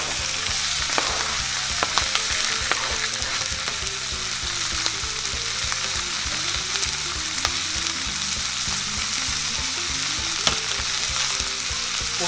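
Onion and shank steak sizzling steadily in a hot pan, a dense continuous frying hiss with occasional sharp pops and stirring clatter, close and even throughout.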